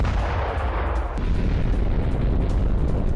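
FAB-500 bomb explosions in Ukraine: a loud, unbroken roar of blast and rumble that grows heavier and deeper partway through, with no voices.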